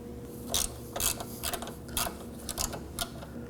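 A ratchet tightens a bolt on a Nissan Armada, about eight short clicking bursts coming at a steady rhythm, close and clear with no talking.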